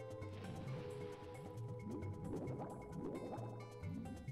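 Mario slipping into water in Super Mario 64, a soft liquid splash followed by bubbly, dripping gurgles over steady game music, moderately quiet with no talking.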